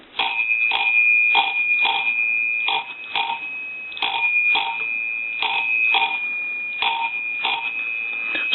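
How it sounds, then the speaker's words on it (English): Telephone bells on a Western Electric 317 wood wall telephone ringing as a hand-cranked magneto is turned, a loud, close, metallic jangle in rapid repeated strikes that pulses with the cranking and runs continuously. "our bells will ring."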